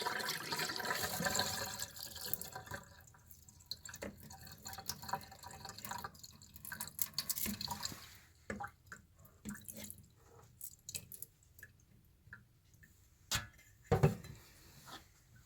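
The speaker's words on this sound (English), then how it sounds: "You want to go ahead and drain that water off." Rinse water drains off washed sushi rice in a kitchen, a splashy pour at first that thins into scattered drips and small clinks over the quiet room.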